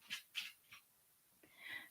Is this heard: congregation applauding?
no